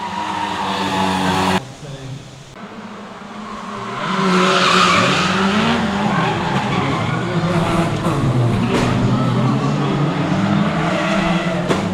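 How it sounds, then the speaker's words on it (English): A race car spins out and crashes on a circuit, with a loud sustained tire squeal and skidding over engine roar that swells midway and continues, while a commentator's voice runs underneath. "Brian Allen gets spun out by 879."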